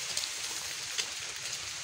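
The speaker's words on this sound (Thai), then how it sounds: "ฝนบ่ยอมว่าสิเซาเลย" Steady rain falling in a forest during mushroom foraging, a constant soft hiss of drops with a few closer patters, heard alone.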